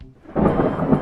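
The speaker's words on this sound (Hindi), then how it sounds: "अब अगर बारिशें नहीं रुक रही" Thunder rumbles in a cartoon rainstorm, a low heavy roll building after a brief quiet start with a dense wash of rain beneath it, loud and close, with no voices.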